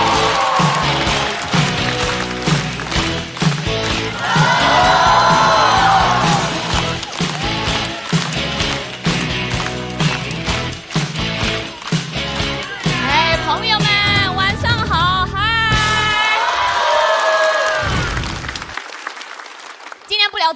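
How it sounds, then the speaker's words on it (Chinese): At a stand-up comedy show, a studio audience claps to welcome a comedian onstage. The applause is mixed with loud entrance music and voices, then cuts out near the end. "掌声有请 Echo。"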